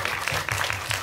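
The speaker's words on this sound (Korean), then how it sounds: "박수를 한번" Brief burst of audience clapping at a post-screening talk for the Korean film 'Seagull', with a few distinct claps standing out over a low murmur of voices.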